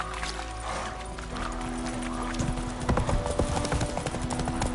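Roach, the horse in The Witcher 3, gallops with a fast clip-clop of hooves that builds louder toward the end over a bed of game music and ambience.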